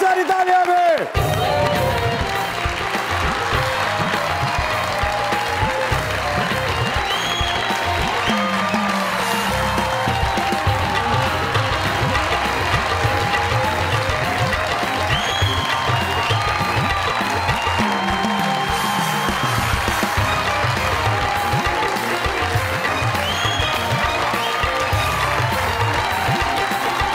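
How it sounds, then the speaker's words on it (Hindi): A studio audience at a comedy talk show rises for a standing ovation, sustained loud applause and cheering filling the room continuously, with crowd noise and some voices mixed in throughout. "सारा का सारा हमारी शोबिज़ इंडस्ट्री को स्टैंडिंग ओवेशन खड़े होके लैला जुबैरी जी का इस्तकबाल किया जाए। बहुत सारी तालियां"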